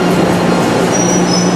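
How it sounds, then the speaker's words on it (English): Orange line subway train in Boston: a loud, close, continuous roar of wheels and motors with a steady low hum, and a thin squeal of wheels on rail joining partway through. "So we're in the subway of some kind."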